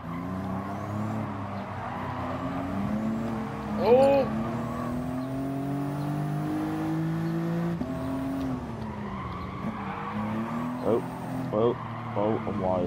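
Race car engines in Gran Turismo Sport, an all-wheel-drive car among them, drone steadily with shifting pitch and brief squeals, under continuous voices talking over the game.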